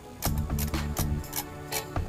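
Small fine Phillips head screws being backed out of a Mego Planet of the Apes Action Stallion toy horse, close rapid ratcheting clicks from a screwdriver in quick regular pulses.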